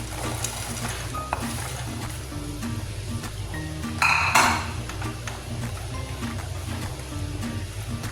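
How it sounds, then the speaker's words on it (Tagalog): Fried sweet potato pieces go into a pan of caramelized sugar with metallic clatter and scraping of utensil against pan, a brief bright sizzling clank in the middle, over a low steady background hum. "Dahil ready na po ang ating matamis, ilalagay ko na ang ating pinritong kamote."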